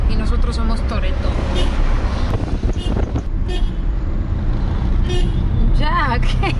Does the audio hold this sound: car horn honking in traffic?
yes